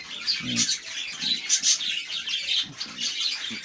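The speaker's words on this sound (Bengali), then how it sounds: "পাখির সামনে যখন আপনি বসে থাকবেন এদের ডাক শুনবেন এদের অ্যাক্টিভিটিস দেখবেন" Pet budgerigars chirping in a cage: a busy chorus of high chirps and warbling tweets at close range, overlapping in quick irregular bursts with no talking.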